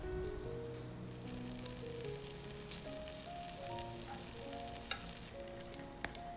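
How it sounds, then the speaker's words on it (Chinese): Butter sizzles steadily in a pan over medium heat before bread soaked in egg goes in for French toast, a continuous bright frying hiss with faint crackles and a low background hum. "然后开中火，放入1块黄油"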